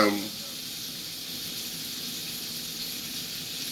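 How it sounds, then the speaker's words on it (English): Steady, hissing sizzle of chicken frying in hot oil, continuous and close, with a faint low murmur underneath. "I'm looking at this chicken that we're frying right now"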